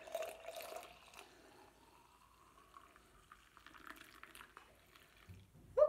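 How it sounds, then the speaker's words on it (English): Warm water pours into a jar holding dish soap, a quiet trickling and filling sound with faint drips, ending in a brief louder clink near the end. "I'll do 15 ounces of warm water"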